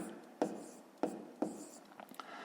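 Pen or pencil strokes scratch quietly on paper as fractions are written out by hand for a fifth-grade maths exercise, with several distinct taps and scrapes in a quiet room.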